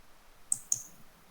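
Two crisp computer mouse clicks a fraction of a second apart, close and fairly quiet against a near-silent room.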